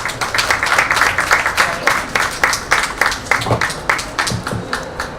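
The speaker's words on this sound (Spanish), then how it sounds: "les pido un aplauso para ellos y arrancamos" Audience clapping at a book presentation on consumer protection law, a moderate crowd producing rhythmic, somewhat uneven claps that pulse steadily and taper slightly toward the end.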